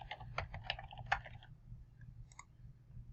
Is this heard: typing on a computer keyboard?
yes